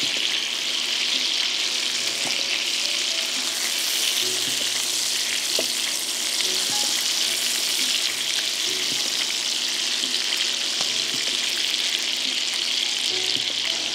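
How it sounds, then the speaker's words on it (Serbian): Chicken pieces sizzle steadily in a pan of melted butter and oil after being turned, a dense continuous crackle of frying with small pops and occasional light clinks, close and even throughout with no talking. "Piletinu okrećem na drugu stranu i nastavljam da pršim."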